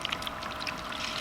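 Distilled water pours steadily into a bucket sitting on a kitchen scale, a soft, close, continuous splashing trickle lasting about a second.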